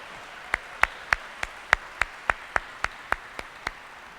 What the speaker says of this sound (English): Bueno, otro round of applause for our honorees.